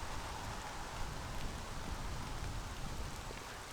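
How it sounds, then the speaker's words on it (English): Heavy rain falling steadily in woodland, a dense, even hiss of drops on leaves and surfaces, moderately quiet and unbroken, with no voices. "that rain's coming down pretty heavy now"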